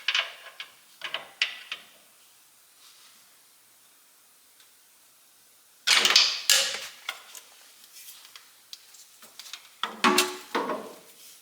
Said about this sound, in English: turn your little steering shaft back and forth to line this up